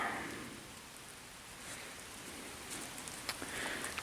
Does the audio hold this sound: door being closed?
no